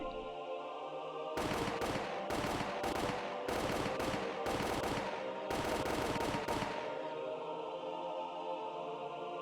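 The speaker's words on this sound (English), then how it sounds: "The sound of the gunshots echoed in the silence." Bursts of gunfire from a Higurashi visual novel scene in which soldiers fire on escaping people: several rapid volleys of loud shots separated by short pauses, followed by a fading echoing tail.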